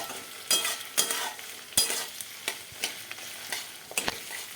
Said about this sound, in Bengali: ভালো করে একটু নাড়িয়ে নেবো, ভালো করে নেড়ে নিতে হবে বন্ধুরা